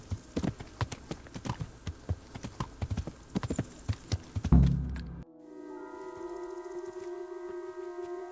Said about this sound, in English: There's an alive horse right there.